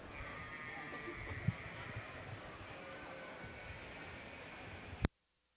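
Hampshire ewe lambs at a junior breeding sheep show at the Ohio State Fair, with a bleat or two rising over a steady crowded barn murmur before the sound cuts off abruptly.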